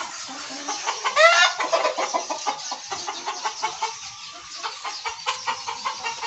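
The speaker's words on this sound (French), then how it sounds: "Là, ce sont des coqueliers." Flock of young cockerels on a poultry farm clucking continuously, many overlapping close calls in a busy steady chatter with a louder burst early on, no talk.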